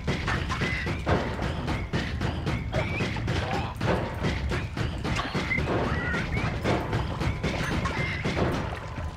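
A run of explosions in the game Noita, dense thumps and crashes bursting repeatedly at close range and high level throughout, with no pause between blasts.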